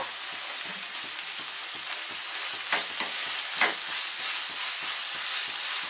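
Bottle gourd halwa with jaggery being stirred in a pan: a steady frying sizzle with repeated scraping strokes of a spoon against the pan, close and alone without voices.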